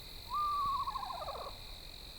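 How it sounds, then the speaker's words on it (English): An eastern screech owl gives a single descending, quavering whinny call, clear and fairly close, lasting about a second against a quiet background with a faint steady hum. "my favorite bird is the eastern screech owl"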